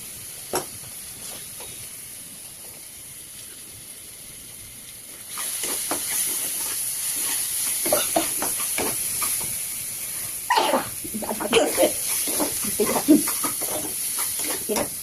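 Marinated meat sizzles and hisses steadily in a hot pan, starting partway through after a quieter stretch, with stirring clatter and a voice speaking over the frying.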